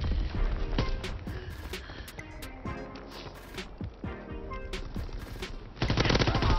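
Bursts of automatic gunfire from a mounted guard gun in Call of Duty WW2, rapid repeated shots in several volleys with loud battle noise throughout and a heavier stretch at the end.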